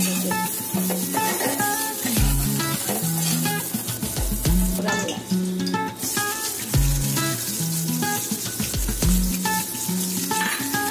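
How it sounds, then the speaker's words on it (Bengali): Pieces of boiled egg and boiled potato fry lightly in hot oil in a village kitchen, a steady close sizzle with occasional stirring, under background music. "তেলে হালকা করে ভেজে নেওয়া হলো"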